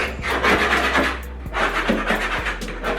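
Beadboard paneling being scraped and pried off a kitchen wall, a steady rough rasping and scratching that runs close and continuous, with a few sharp knocks, no talking.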